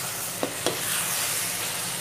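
Mutton karahi with about three spoons of cream sizzles hard over a high flame, a dense continuous frying hiss with two brief scraping clicks of a spoon near the start.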